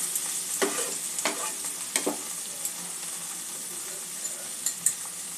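Ground cumin and coriander spices fry in a pan for cauliflower kabab, a continuous soft sizzle broken by a few sharp spoon scrapes and stirring clicks, with no talking.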